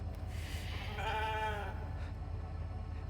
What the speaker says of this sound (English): Pet the sheep. Always pet the sheep.